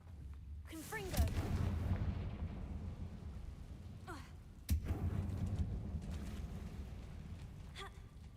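A Confringo fire spell in Hogwarts Legacy goes off as a sudden, loud blast, followed by a sustained low roaring rumble. A second sharp burst comes midway, with voices calling out briefly over the game noise.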